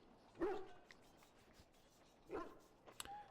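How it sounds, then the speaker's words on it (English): A Mabari war hound in Dragon Age: Origins gives two or three short barks and yips spaced across a couple of seconds, moderately loud over a quiet background. "This is a Mabari, smart breed and strong."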